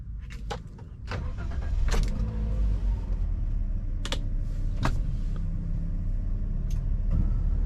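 A 2022 Toyota Avanza 1.3 E CVT FWD car starts up: sharp clicks and knocks come first, then the engine catches into a steady low rumble that keeps running close by, with scattered clicks over it.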